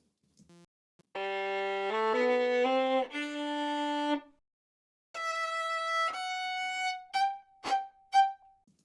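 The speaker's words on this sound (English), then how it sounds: "This is a violin recorded from very nearby, very close on top of the strings." A solo violin played very close and dry, sustained bowed notes in two phrases, ending with a few short plucked or detached notes, no room echo.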